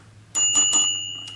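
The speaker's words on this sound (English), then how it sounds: "Here we have the little bell." A small concierge desk bell from a toy hotel set rings three quick dings in a row, then one more after a short pause, bright and clear in a quiet room.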